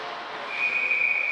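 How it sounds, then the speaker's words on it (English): Referee's whistle at a U16 youth ice hockey game sounds one long, steady, piercing blast that starts partway in and holds to the end, over a constant hum of arena crowd noise. "And we're going to get a whistle here."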